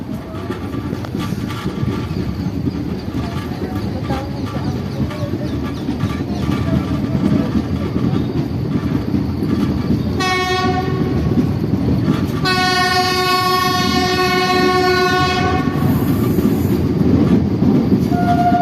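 An Indian passenger train, the Netaji Express, rumbles steadily at Deen Dayal Upadhyaya station while a loud, sustained horn blast sounds, then a brief second toot follows.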